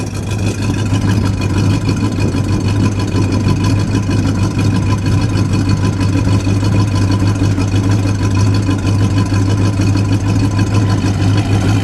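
A 1970 Plymouth Road Runner Superbird with a 440 V8 idles steadily, a loud, close, even burble with a deep low rumble that holds without revving for the whole stretch.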